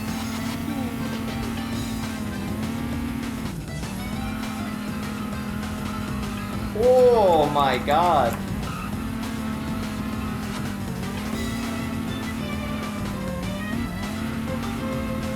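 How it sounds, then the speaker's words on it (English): A stock 200-horsepower drift car in Prodigy Drift holds a steady, buzzing engine drone with brief dips as the revs shift, broken by a short squeal of tires midway, with a speaker briefly exclaiming over it. "So this car only having 200 horsepower, you kind of have to stay on the throttle a lot"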